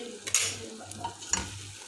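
Potatoes stirred in a frying pan for an Arabic dish, with a steady sizzle under two distinct scraping stirs of a utensil against the pan.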